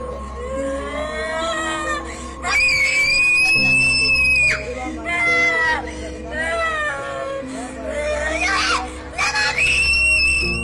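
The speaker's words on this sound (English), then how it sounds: "she continues to scream wildly" A girl screams wildly and in great distress, high wailing cries rising and falling across the whole stretch, while two women pray over her in voices underneath.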